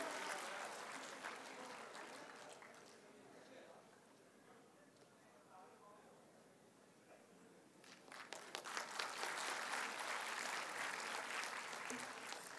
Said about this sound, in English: He deserves a real big round of applause, guys.